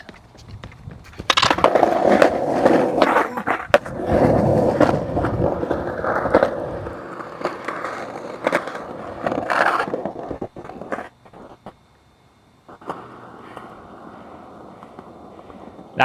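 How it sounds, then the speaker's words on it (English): Skateboard wheels roll and scrape through a nollie attempt in a skateboarding video game, with rough grinding that runs loud for about ten seconds, then a short lull before quieter rolling resumes. "Let's go for a big nollie."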